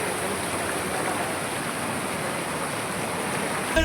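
A waterfall at the foot of the Melagiri hills pours in a steady, loud, broadband rush of falling water that stays even and unbroken throughout, with no voices present.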